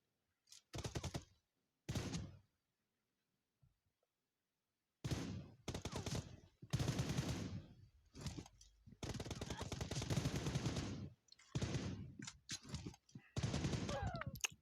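Video game gunfire comes in loud bursts of rapid automatic shots, separated by stretches of near silence, with a few long sustained volleys toward the end.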